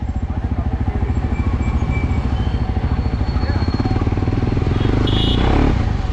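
A modified KTM 390 Adventure motorcycle with an Akrapovic exhaust rides with a loud, steady throbbing engine pulse that stays close and constant throughout, without distinct rev spikes.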